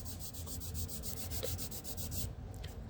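Steady, rhythmic back-and-forth rasping of a Rabid Models edge sander block sanding the edges of a model, close up and continuous, with no voices.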